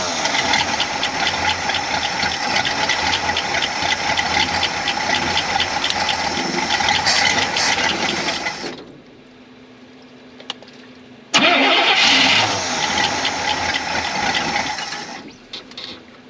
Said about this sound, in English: Just let her idle a little bit.